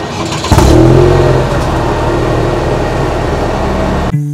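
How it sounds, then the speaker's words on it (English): A Cadillac CT4-V engine cranks and fires with a sudden loud bark, then settles into a steady, deep idle heard up close before cutting off abruptly. "Starting the car is straightforward"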